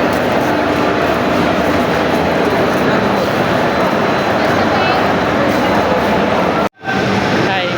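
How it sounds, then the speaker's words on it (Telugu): A busy Chennai railway station hall full of dense crowd chatter and footsteps, with rail noise underneath, constant and loud, briefly cutting out near the end. "మళ్ళీ చెన్నై రైల్వే స్టేషన్కి వచ్చామన్నమాట"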